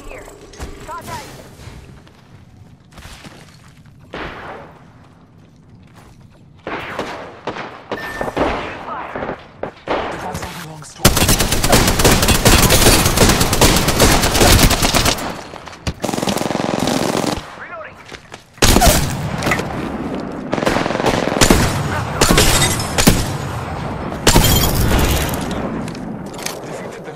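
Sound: gunfire in video game Apex Legends

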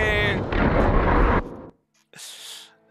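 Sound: gunshot in the video game Horizon Zero Dawn

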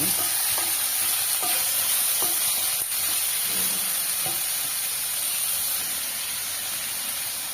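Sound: stirring slit green chilies into rice flour sambar

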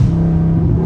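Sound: Dodge Scat Pack car engine revving

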